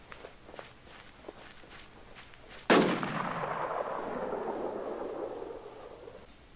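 Gunfire in Infestation The New Z on the Spring Valley map: soft footsteps patter along, then one loud, sharp shot cracks nearby and rolls out in a long echoing tail.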